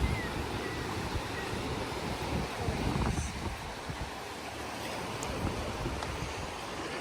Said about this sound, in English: There is this, some wind. Breeze.